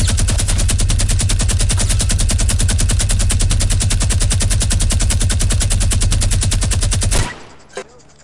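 Rapid automatic gunfire in Fortnite, a loud, close, unbroken burst of evenly spaced shots lasting about seven seconds that stops abruptly, followed by a faint click.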